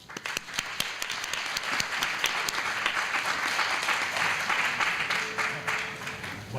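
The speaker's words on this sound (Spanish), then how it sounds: "Un fuerte aplauso." Applause from a lecture audience welcoming a speaker to a talk on radio frequency, a steady field of many hands clapping that holds fairly level throughout at moderate distance, with no talk over it.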